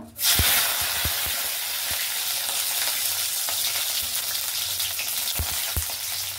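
Bay leaves and whole cumin seeds hit hot oil with a sudden loud sizzle that settles into a steady, crackling hiss, broken by a few sharp taps of a spoon against the pan.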